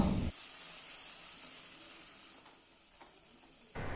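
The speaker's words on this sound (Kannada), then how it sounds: "ಟೊಮೆಟೊ ಚೆನ್ನಾಗಿ ಸಾಫ್ಟ್ ಆಗೋವರೆಗೆ ಫ್ರೈ ಮಾಡ್ಕೊಳ್ಳೋಣ" Chopped tomatoes frying with golden-brown onions in a pan for prawn curry, a steady soft sizzle and hiss that fades slightly midway, then picks up with a stirring clatter at the end.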